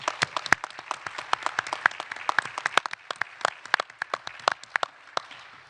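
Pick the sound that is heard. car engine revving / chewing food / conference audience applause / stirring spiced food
conference audience applause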